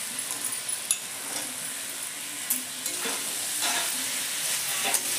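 Potatoes and mushrooms frying in spiced oil in a pan, a steady close sizzle with occasional stirring scrapes and light utensil clinks.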